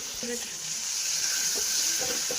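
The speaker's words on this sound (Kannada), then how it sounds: "ಕ್ಯಾಪ್ಸಿಕಮ್ನ ಹಾಕಿ ಇದನ್ನು ಕೂಡ ಫ್ರೈ ಮಾಡ್ಕೊಳ್ಳಿ" Onions and capsicum fry in a pan for vegetable upma, giving a steady close hiss of sizzling with a few faint stirring clinks, no speech over it.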